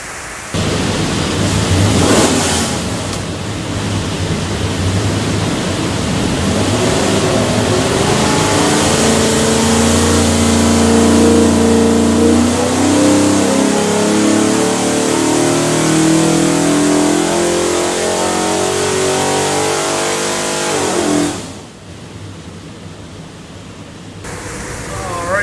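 A Ford 302 small block V8 with a rotating kit and custom DSS pistons, built for an '84 F150 4x4, roars loudly on an engine dyno. Its revs climb steadily through the pull, then it cuts off abruptly near the end.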